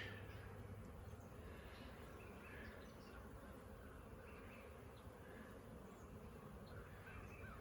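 Honeybees buzz around hives on a farm, a steady, dense buzzing of many bees filling the air continuously, with faint chirps of birds in the background and no voices.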